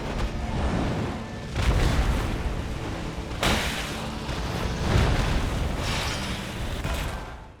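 Explosion attacks from a night boss in Elden Ring Nightreign, a series of deep booming blasts that swell and recur every second or two over a constant rumbling background, loud with no voices.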